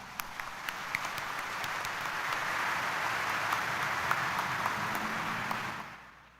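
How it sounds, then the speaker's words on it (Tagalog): A church congregation at Quiapo Church applauds through a Friday Mass, a broad, sustained wash of clapping that swells gradually, holds steady and then fades out near the end. "itaas nga ang kamay at pumalakpak ng mas malakas"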